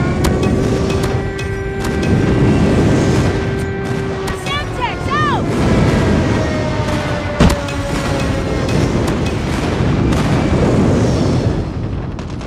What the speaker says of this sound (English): Target's in sight. Friendly airstrike incoming.